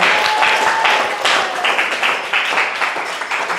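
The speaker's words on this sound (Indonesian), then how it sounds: "Tepuk tangan." Applause after a group solves a pattern-recognition stage in a training game session, steady clapping from a small group filling the room, fairly loud and continuous, with brief bursts and no talk over it.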